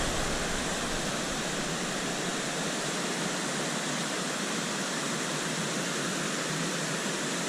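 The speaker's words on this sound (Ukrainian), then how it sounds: "А попереду сам водоспад шепіт." Shypit waterfall in Pylypets roars with a dense, continuous rush of falling water, loud and steady from start to finish with no other sounds breaking through.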